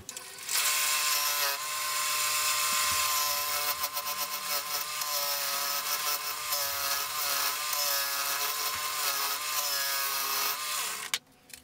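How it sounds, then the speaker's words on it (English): A steady high-pitched whir of a spinning wood lathe with a carbide tool scraping the workpiece to round off its corners, running continuously and close up before cutting off at the end. "I'm just going to give it a bit of a round out to get rid of some of these corners"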